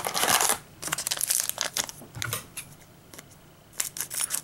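Crackly plastic wrap on a Pokemon booster box being handled up close, heard as bursts of sharp crinkling and rustling with quiet pauses between them.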